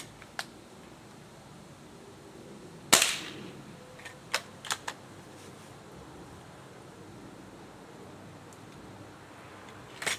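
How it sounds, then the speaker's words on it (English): Beeman Model 1047 air rifle firing, one sharp close crack followed by several smaller clicks and snaps of cocking and loading, in a quiet setting with no talk. "Two more shots."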